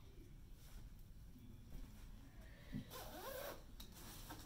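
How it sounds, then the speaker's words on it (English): Jacket zipper being pulled up, a faint rasping zip sweeping upward late in the clip over a soft, noisy room background. "I'm going to zip it."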